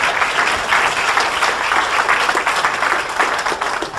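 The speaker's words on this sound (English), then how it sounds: "Let's give a round of applause for Diane." Loud, sustained applause from a large audience at a TEDx talk greets a person called up on stage, a thick, even wash of clapping with no voices over it.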